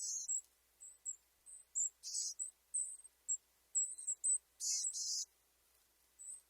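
Boreal Chickadee calling in a backyard, a series of short, high thin notes repeated irregularly, with a few longer buzzy phrases, fairly close and alone without talk.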